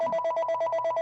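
A telephone rings with a steady electronic warble, its repeating pulses close and loud over a faint low hum, with no voices during the ring.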